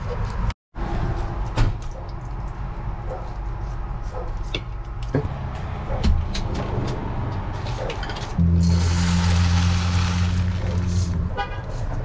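A steady low rumble of a DIY camper van driving, with rattles and knocks from inside the cabin and a louder, brighter stretch of road noise near the end.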